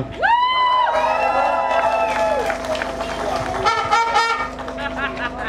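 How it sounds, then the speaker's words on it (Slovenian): Crowd cheering and whooping at an outdoor homecoming reception in Britof near Kranju, loud and continuous with a whistle-like tone, shouts and clapping mixed throughout. "Zdaj pa dajmo še en aplavz za tudi soorganizatorja Klemena Sedlarja."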